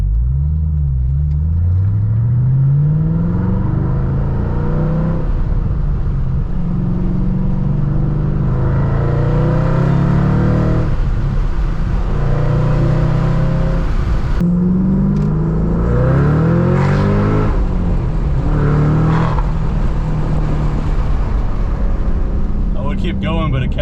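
A 2014 Shelby GT500 fitted with a Borla ATAK exhaust, heard from inside as the engine rises and falls through repeated revving pulls, a loud muffled rumble with climbing pitch sweeps and a faint whine, a voice talking over it.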